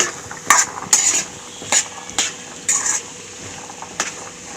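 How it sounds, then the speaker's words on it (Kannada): A spoon stirs chickpea usli in a metal pan, several sharp scraping clinks at uneven intervals over a quiet background, close up. "ಮಿಕ್ಸ್ ಮಾಡೋಣ."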